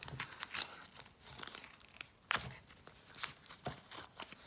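Soft, close crinkling and rustling of a paper packet, with irregular crackles and a few sharper crunches, quiet and without speech.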